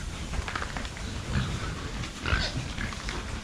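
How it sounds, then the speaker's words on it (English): Pigs on a farm grunt steadily in a dense, low, continuous mix of snorts and oinks, close by, with no talking. "they're a real good batch of pigs"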